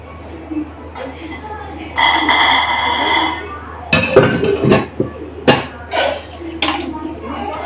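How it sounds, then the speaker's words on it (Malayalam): Dishes clattering and clinking as they are washed, with irregular knocks of pots and plates and someone talking nearby. "പാത്രം കഴുകുമായി"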